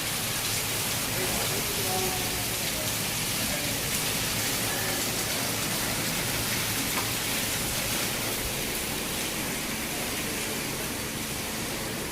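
Steady rain hisses throughout, a dense even patter with no pauses, faint indistinct sounds underneath.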